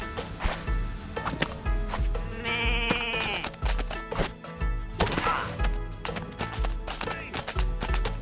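Goats bleating in quick, repeated wavering calls mixed with knocking and thumping sounds, close and moderately loud, with no speech over them.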